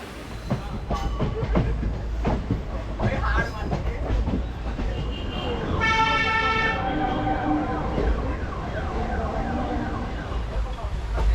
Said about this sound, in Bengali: রাইট টাইম ট্রেন ছেড়ে দিল।